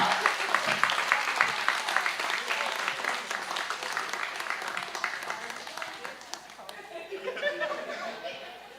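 A comedy-club audience claps and cheers for a stand-up act, steady dense applause mixed with scattered chatter and a few chuckles, tapering slightly toward the end.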